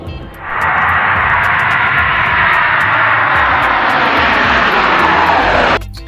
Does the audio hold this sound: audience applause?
no